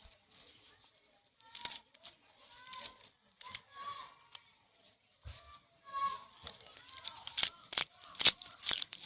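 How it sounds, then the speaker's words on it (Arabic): Scissors snip the tops off green onion bulbs in a series of crisp, close cuts, with short pauses and a voice talking softly between them. "اي مقص عندنا نقطع زي ما انتم شايفين كده"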